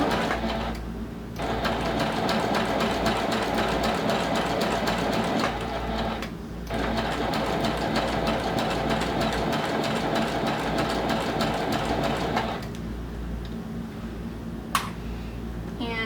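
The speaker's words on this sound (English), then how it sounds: "Okay, so all I did was I sewed the one side, and I'm going to go ahead and sew the other side." Steady whirring of a sewing machine running along the side seam of a small handbag, sustained over long stretches with brief pauses between runs and no voices.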